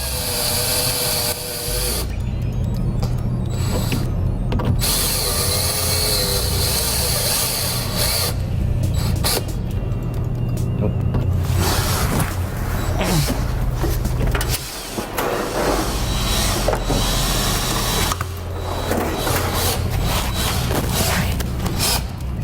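An electric drill drilling out rivets in composite, whirring in repeated bursts with pauses, closely recorded, sometimes bogging down under pressure.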